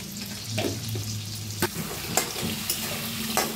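Eggs frying with turmeric, red chilli and salt in a pan give a steady close sizzle, broken by a few sharp scrapes and knocks as they are stirred.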